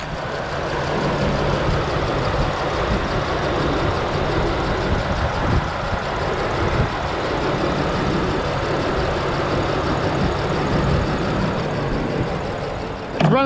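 An old engine that had sat unused runs rough on a temporary rigged fuel system fed with recycled gasoline, giving a continuous uneven idle rumble nearby for the whole stretch, with a short clatter at the end.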